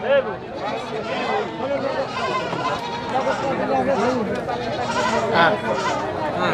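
A goat bleats repeatedly at a crowded village livestock market, its cries close and mixed with steady crowd babble and people talking nearby.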